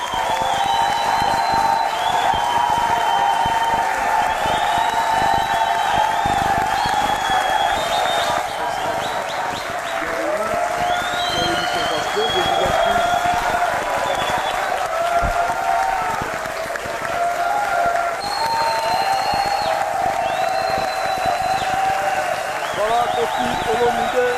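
An audience applauds and cheers for a Congolese musician on a television set, steady dense clapping with whoops, while whistle-like tones and voices sit on top of the continuous loud applause.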